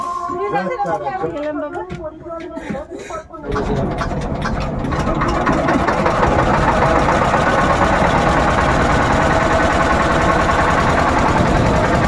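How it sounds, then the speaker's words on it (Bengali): A motor boat engine runs steadily on Mukutmanipur lake, a loud, dense drone that takes over after a few seconds of quieter chatter and keeps going close by, with voices under it. "বন্ধুরা বোট স্টার্ট হয়ে গেছে যাত্রা শুরু"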